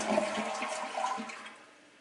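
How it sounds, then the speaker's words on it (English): A newly installed toilet flushing, a steady rushing swirl of water that starts loud and close and then tapers off as the bowl drains, with no voices. "You want to flush it 3 or 4 times to make sure that if it is leaking"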